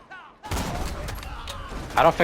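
A Trespasser sniper rifle fires in the Borderlands video game, a sharp loud report following a short moment of quiet, with game noise continuing after and a brief louder burst near the end.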